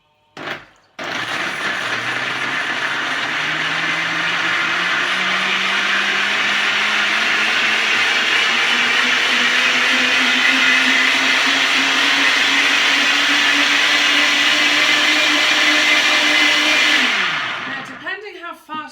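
A blender making almond milk starts with a click and whirs loudly and steadily for about sixteen seconds, its pitch slowly rising, then winds down and stops.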